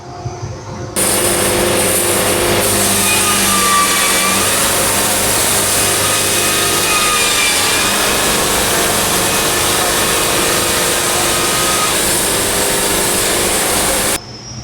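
Sawmill engine laboring steadily as the blade cuts through a big wide board, a loud continuous drone with grinding, rasping wood noise lasting over a dozen seconds, no talking.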